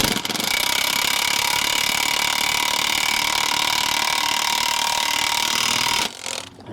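Impact wrench with a socket tightening the nut on a wheel bearing press tool for a Toyota Avalon front hub, one loud continuous hammering burst lasting about six seconds before cutting off.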